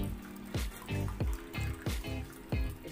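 Whey water drains from homemade cream cheese held in a cloth handkerchief, with repeated trickling and dribbling bursts of liquid coming at a steady rhythm, close and moderately loud.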